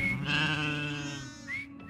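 A short-haired sheep on a farm in Cuba bleats loudly and close, one sustained wavering call followed by a brief second cry.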